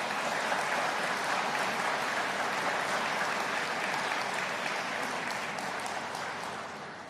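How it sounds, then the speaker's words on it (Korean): Sustained audience applause for a lawmaker at a Busan vision ceremony, a dense, even wash of many hands clapping, moderately loud and steady throughout, easing slightly near the end. "우리 자유한국당의 장제원 의원에 대해서 우리 또 큰 박수 부탁드립니다"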